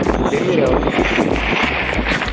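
Heavy wind buffeting a microphone outdoors during Jawa 350 motorcycle crankshaft bearing work, a constant low rumble and roar filling the whole clip with no clear speech.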